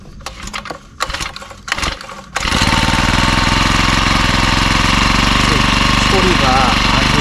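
A brush cutter's small two-stroke engine, serviced after aronia orchard weeding, cranks with a few pull-start bursts, then fires and runs at a loud, steady, continuous drone close by.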